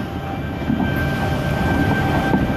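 A train pulls away from a station platform at Tuggerah, with a steady, close mechanical rumble and a faint high whine. It runs alone, with no voices.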